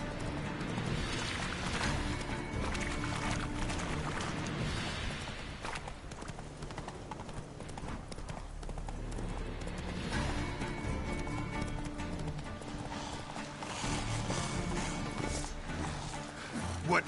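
Geralt's horse Roach gallops in The Witcher video game, with rhythmic hoof clip-clops running steadily over a busy game soundscape of music and ambient noise.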